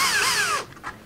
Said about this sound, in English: So a nail can work as its own pilot drill because the heads are usually beveled